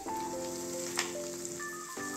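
Onions and tomato frying in a pan, a steady close sizzle running throughout, with background tones over it.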